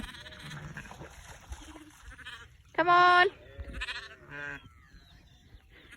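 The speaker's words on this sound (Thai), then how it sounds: "ดูแม่แกะกับลูกจะข้ามยังไง" A ewe and her lamb bleat while crossing floodwater on a sheep farm, with one loud, clear bleat in the middle and fainter calls around it. Someone speaks briefly over the scene.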